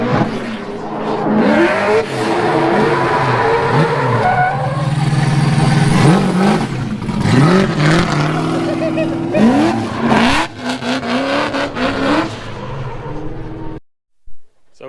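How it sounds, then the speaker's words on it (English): A Nissan S15 drift car sliding on Falcon tires, engine revving hard and rising and falling in repeated pulls with squealing, skidding tires, loud and fairly close, ending in a sudden cutoff. "So we're not going to burn all these innocent Falcon tires for nothing."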